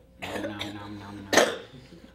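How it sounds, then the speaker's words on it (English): A single, sharp, close cough bursts out right after a stretch of a person talking, then trails off into quiet breathing. "How many times are you going to cough?"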